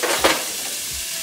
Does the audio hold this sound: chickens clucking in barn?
no